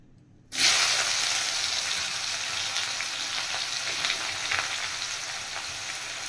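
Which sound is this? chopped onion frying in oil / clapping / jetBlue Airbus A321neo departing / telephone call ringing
chopped onion frying in oil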